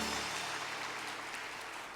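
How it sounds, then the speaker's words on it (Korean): Church congregation applause at a Wednesday worship service, a faint, steady wash of many hands clapping together that slowly tapers off, heard at a distance with no voices over it. "우리 하나님께 영광의 박수 한번 올려드리겠습니다."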